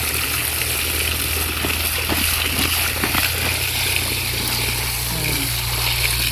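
Water pouring from a pipe gives a steady, loud, continuous rushing gush that holds for several seconds without break, close by, with no speech over it.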